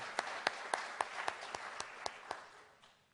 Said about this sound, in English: how about a round of applause for last week's presentation